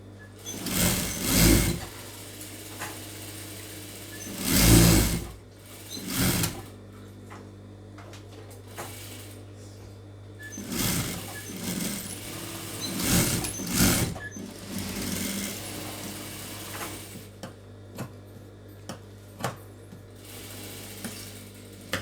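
A sewing machine runs thin stitches along a blouse edge in several bursts of rapid mechanical whirring, close by, with short pauses and clicks between runs.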